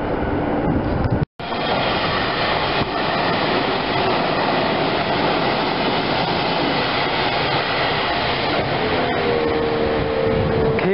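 An Inokashira Line train runs past at ground level, a loud, continuous rumble and rattle of wheels on rails close by, with a brief dropout early on.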